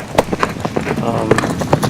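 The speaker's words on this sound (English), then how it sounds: "Agents still use horses even today to get to places where ATVs cannot get." Border Patrol horses' hooves clip-clop on hard ground in an irregular walking rhythm of distinct knocks, fairly close, with a voice speaking over them.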